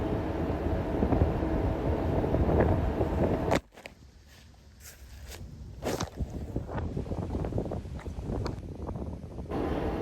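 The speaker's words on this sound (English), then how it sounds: "It is pretty windy at this end of the park" Gusty wind buffets the microphone in an open park, loud rumbling at first, then dropping abruptly to lighter gusts mixed with rustling and handling noises as a tent is being set up.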